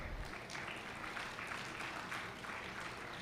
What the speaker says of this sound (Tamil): புரிஞ்சு கைத்தட்டுறீங்க பாருங்க